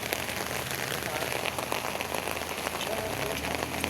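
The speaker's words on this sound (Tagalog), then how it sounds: "Umuulan." Steady rain falls, pattering densely on surfaces close by in an even, unbroken wash.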